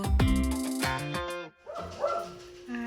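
A dog gives a quick burst of sharp barks and yips up close, then a pause, followed by softer whimpering noises.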